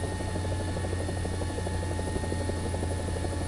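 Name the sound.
helicopter flying in War Thunder video game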